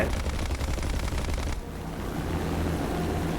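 Rapid machine gun fire in the War Thunder flight game, aboard a Halifax B Mk IIIa bomber, rattles loudly for about a second and a half, then drops away to steady engine drone.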